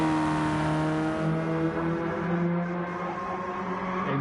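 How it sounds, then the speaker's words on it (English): Whining race car engine with steady harmonic tones, sounding synthetic like a video game, holding a fairly constant pitch with a slight dip midway. "I can hear Jerry's car in the background"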